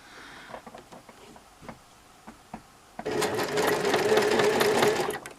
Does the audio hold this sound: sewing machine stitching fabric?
yes